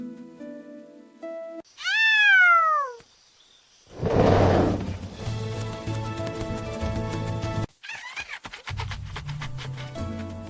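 A small cat meows in a jungle setting, with rising and falling drawn-out calls in separate bursts amid rustling and a noisy stretch in between, close and clear.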